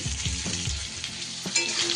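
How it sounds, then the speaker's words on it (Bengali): Fried vegetables with salt and turmeric are stirred in a hot pan, a continuous close sizzle broken by several scraping stirs of a spatula, with no voices. "নুন আর হলুদ দিয়ে একটু নাড়িয়ে চাড়িয়ে নিলাম"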